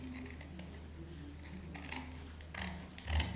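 Scissors cutting fabric for a sleeveless top, several crisp snipping and slicing strokes at a close distance, quiet between cuts, with a louder burst of cutting near the end.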